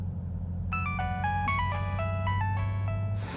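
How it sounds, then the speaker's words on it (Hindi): A mobile phone rings with a stepped electronic melody of repeating tones over a steady low hum, loud and alone for about three seconds in a scene from a Hindi-dubbed South Indian action movie. "तुम्हारा फोन बज रहा है, उठा लो फोन।"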